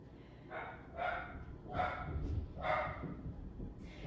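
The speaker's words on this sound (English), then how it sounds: "Don't worry about dogs barking or any outside noises" Dogs barking outdoors, several separate woofs spaced about a second apart at moderate distance over a low background rumble.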